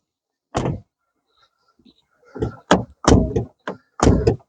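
Doors of an Opel Meriva 1.6 Cosmo being handled: a sharp latch click, then a run of clunks, thumps and a firm shut, close and loud against near silence.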